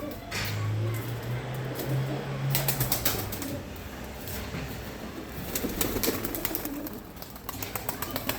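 Pigeons take off and fly across to a facing building, with bursts of flapping wings and a few soft coos, close by over a steady outdoor background.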